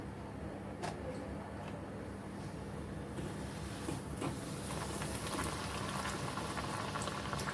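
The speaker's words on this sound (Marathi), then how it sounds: "आपल्याला ती छान अशी तळून घ्यायची मस्त तांबूस रंगावर आता मी दुसरी पण घालते याच्यामध्ये" Pieces of damtya dough deep-fry in hot oil for modak, a dense, continuous bubbling crackle close by with scattered sharper pops, steady throughout.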